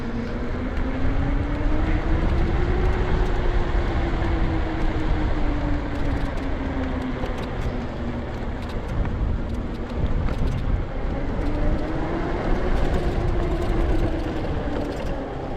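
A 2001 or 2002 car cruising on the road, heard from inside as a steady, smooth low rumble of engine and tire noise with a gently rising and falling tone, no voices over it.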